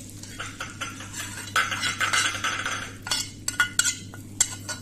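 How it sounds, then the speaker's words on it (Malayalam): Onion and mustard seed tempering poured into a chicken curry and stirred with a spoon, giving scraping, clinking strokes against the pot over a steady low hum, with no talking. "നമുക്ക് ഈ ചിക്കൻ കറിയിലോട്ട് ഒഴിച്ചു കൊടുക്കാം"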